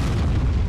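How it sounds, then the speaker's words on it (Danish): A ship's cannon fires in the Roblox game Build a Boat, giving one loud, deep, rumbling boom that fills the whole short clip. "Kan vi skyde med kanonen igen?"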